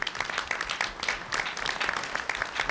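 Sustained applause from an audience at a CUNY Board of Trustees meeting: steady, dense clapping that holds at an even level for the whole stretch with no voices over it.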